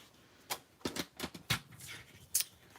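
A paper trimmer or scissors cuts Peaceful Cabin designer series paper to size. Several sharp, separate snips and slices come close up at an irregular rhythm, with quiet rustling of the paper between them.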